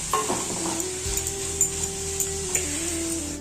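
A spoon stirs paneer bhurji in a pan over a low gas flame, giving soft continuous scraping and stirring over a quiet sizzle, close and steady with no talk.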